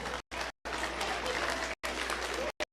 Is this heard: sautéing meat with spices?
no